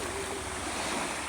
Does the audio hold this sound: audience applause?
no